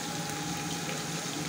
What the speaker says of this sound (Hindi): और इसमें थोड़ा सा पानी ऐड करना है।